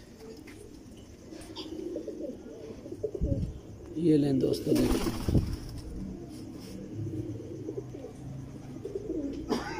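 Tubelight-breed pigeons coo in low, repeated murmurs close by, with someone talking over them and some brief rustling and bumps at night.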